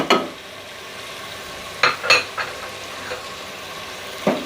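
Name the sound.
frying and stirring spice powders for beef trotters curry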